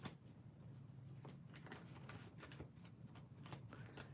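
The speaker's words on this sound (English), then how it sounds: "Give me one moment to shuffle." Tarot cards are shuffled in quiet, rapid riffles and soft flutters, close by and faint, with no talking.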